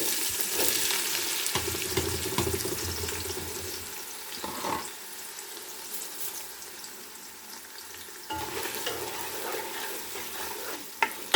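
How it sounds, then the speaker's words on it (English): Onions frying in a pan for ragu alla bolognese, a steady close sizzle with occasional stirring scrapes and clatters. The sizzle drops after about four seconds and swells again near the end. "First, we start adding the onions."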